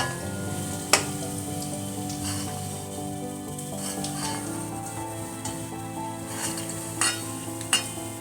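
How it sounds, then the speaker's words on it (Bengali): Onions frying in oil over a medium-low flame for Bombay-style spicy chicken biryani, giving a steady, close sizzle with a few sharp utensil clinks scattered through, no voices. "মিডিয়াম টু লো ফ্লেমে আমি এই পেঁয়াজটা ভেজে নেব বা বেরেস্তা করে নেব"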